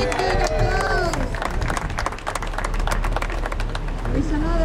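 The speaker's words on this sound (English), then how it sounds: "let's give a big applause" A crowd claps and cheers in dense, continuous applause at an outdoor event in Mexico, steady and moderately loud for the whole stretch, with a voice speaking over it at the start and end.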